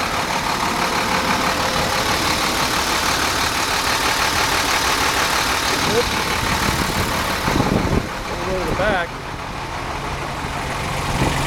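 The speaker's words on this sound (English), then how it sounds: "Here's that diesel engine that compresses the water." Diesel engine of a water truck idling steadily with a dense rumbling drone throughout, a brief dip and clank near the end, while someone speaks briefly.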